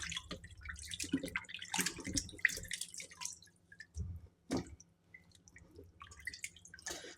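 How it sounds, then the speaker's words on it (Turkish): Food being washed in water at a home sink, with soft close splashes, drips and trickles coming in irregular bursts between quiet gaps. "Bir yıkadım bir daha yıkayayım."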